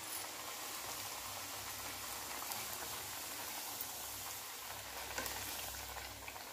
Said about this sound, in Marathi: गॅस कमी करूया आणि पुऱ्या टाकूया मध्ये तेलामध्ये